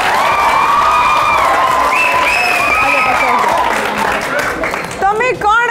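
Loud applause and cheering from a campus audience filling most of the moment, with whoops and shouts riding over the steady clapping, which thins out near the end.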